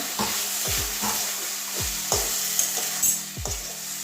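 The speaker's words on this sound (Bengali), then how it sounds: "দু মিনিট ভালো করে কষিয়ে নেব ভালো করে কষিয়ে নিয়েছি সয়াবিনটা" Soya chunks sautéed in a pan, with a steady sizzle under repeated scraping strokes of a spoon stirring them, about a handful of distinct stirs spread across the clip, close and clear.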